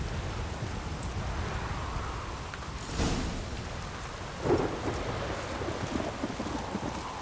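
Steady rain pours in The Witcher 3, with rumbling thunder swelling now and then beneath a dense, continuous hiss of falling water and some wind.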